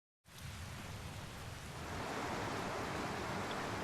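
Video game rain in Tales of Berseria rushes in abruptly as a dense, broad wash of noise. It swells louder after a couple of seconds and holds steady with a low rumble, and no one speaks.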